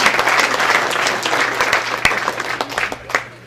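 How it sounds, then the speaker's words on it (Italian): An audience at a social-policy conference in Veneto claps together in a short, dense burst of applause that thins out toward the end, with a few sharper claps standing out. "facciamo un bel applauso"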